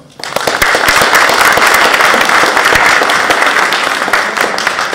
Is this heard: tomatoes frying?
no